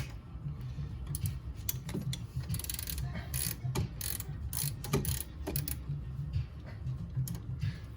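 A ratchet with a 17 mm socket tightens the upper rear caliper bolt on a 2008 Acura TL Type S, giving steady, close, quiet clicking with small metallic knocks.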